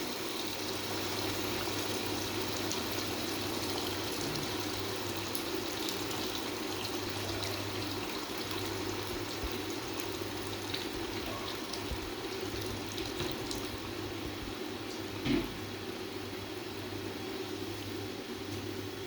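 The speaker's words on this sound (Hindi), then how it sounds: "अब हम इसके अंदर पानी डालेंगे, क्योंकि आलू हमारे गल जाएं," A steady stream of water pours continuously into a pot of potatoes, a constant rushing splash with a low hum beneath it.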